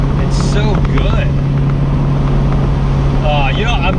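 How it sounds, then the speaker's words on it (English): Car engine droning loud and steady under heavy wind and road noise, with a steady low hum and faint rising engine tones, while someone talks over it. "And the sound of this engine, it's so mean."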